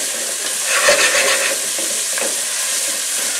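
Carrots, onions, leeks, celery and garlic frying over high heat for a shellfish bisque, a steady close sizzle with spoon scrapes and stirring movements, no voices.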